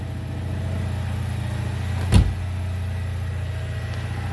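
A Citroen 2CV engine idles steadily with the choke partly out, a continuous low mechanical hum with one brief louder knock or rev partway through, heard close and alone.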